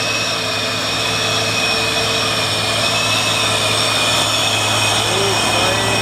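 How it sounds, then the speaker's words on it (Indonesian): A loaded vegetable truck revving hard while climbing Bukit Kodok hill, a continuous droning engine roar holding steady at high revs throughout, with no talking. "Truk sayur goreng gas."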